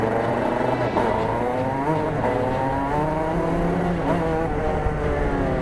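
A race car pulls away on the Daytona track, its engine droning loud and steady in close, continuous onboard sound with a rising, layered harmonic whine.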